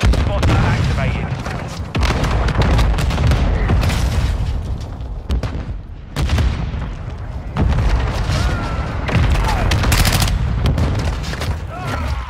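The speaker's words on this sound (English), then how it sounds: "Enemy mortar strike inbound." Enemy mortar strike in a first-person shooter game: repeated booming explosions and heavy gunfire crackle in dense bursts, loud and close, with voices talking over the barrage.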